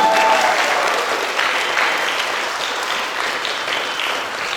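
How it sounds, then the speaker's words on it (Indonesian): An audience at an evening stage event applauds its guests, a dense, steady wash of clapping from many hands that fades slightly toward the end. "berikan tepuk tangan yang meriah kepada para tamu kita atas kegiatan tadi"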